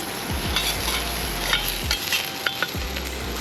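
Mixed vegetables sizzle steadily in a hot pan while a utensil scrapes and stirs at irregular moments, close and continuous without speech.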